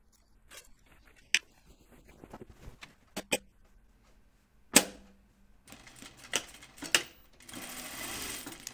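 A sewing machine stitches an unlined Wiksten Unfolding Jacket in short, quiet bursts with pauses between, then settles into a longer continuous run at the end.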